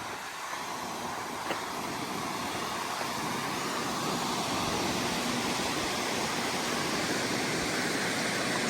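A good-sized river flows past a hydroelectric station along the Appalachian Trail, making a steady, broad rushing wash that stays even and continuous throughout with no voices.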